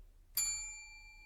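A single bright bell ding struck once, clear and close, its ringing tone sustaining and slowly fading in an otherwise quiet room.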